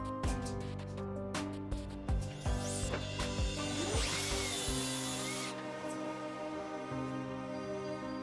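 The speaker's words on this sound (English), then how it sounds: "I clamped the top to the frame and pre-drilled holes underneath it." Power drill boring pilot holes into a wooden tabletop clamped to a frame, in a workshop, with several short whirring bursts followed by a steadier grinding run, loud and close.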